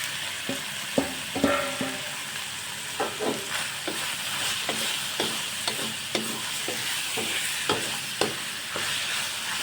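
Minced pork and tomatoes are stir-fried in a pan for Thai nam prik ong. A utensil scrapes and knocks against the pan in a repeated stirring rhythm over a continuous sizzle, close and fairly loud, with no talking.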